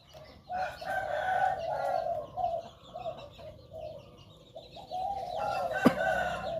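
A decoy junglefowl with a medium-pitched call, during morning ground training, calls in several clucking, crowing phrases at moderate distance, with a sharp click near the end and no talking.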